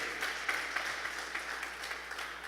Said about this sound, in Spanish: Bendiga al Señor con sus aplausos.